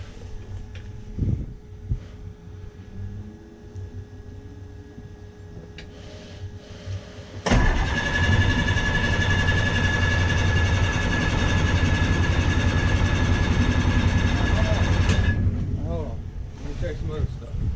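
A Kubota U55 mini excavator engine turns over and settles into a steady, loud, droning idle nearby, which runs for several seconds before dropping back. People talk briefly before it starts.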